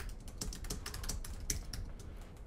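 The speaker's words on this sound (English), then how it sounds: "And let's just start typing our text." Rapid keystrokes on a computer keyboard, close and steady, an irregular patter of clicks running throughout with no voices.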